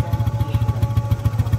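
A motorcycle engine idles close by with a steady, throbbing low pulse that repeats evenly, and no one speaks over it.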